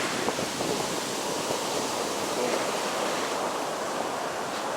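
Ocean waves at Kalutara beach, Sri Lanka, make a steady wash of surf, a broad continuous hiss with gentle swells, fairly loud and with no voices.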